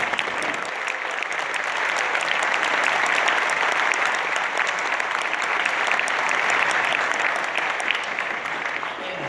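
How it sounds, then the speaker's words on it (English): A chapel audience at Oklahoma Christian gives a round of applause for the Hayes family, a full, steady clapping from a large crowd that holds evenly and then eases slightly. "Members of Dan and Joanne Hayes family right here. Let's give them a round of applause."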